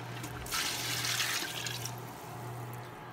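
Rice washing water pours into a pot of browned pork for sinigang na baboy, a steady splashing gush that swells then eases, alone over a low kitchen hum.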